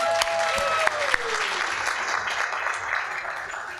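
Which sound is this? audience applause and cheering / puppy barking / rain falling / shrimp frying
audience applause and cheering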